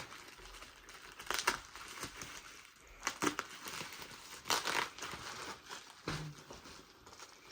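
Packaging on a newly delivered Avanti XL is opened at close range, with soft crinkling, rustling and scattered taps and tearing bursts, fairly quiet and without talk.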